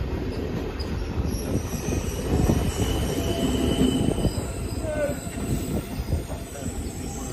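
Train at an airport railway station on the Bangalore line: a steady, fairly loud rolling rumble with high metallic wheel squeals that rise and fade, and no voices.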